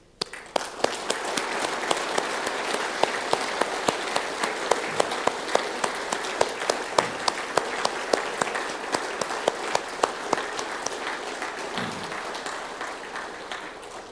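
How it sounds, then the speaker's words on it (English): A large audience applauds at the Motorsport Ireland Champions of Irish Motorsport awards ceremony, sustained dense clapping with sharp individual claps standing out, steady and loud throughout. "can I ask you to be upstanding and to join me in a round of applause"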